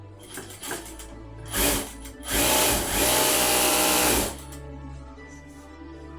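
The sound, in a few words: sewing machine stitching bags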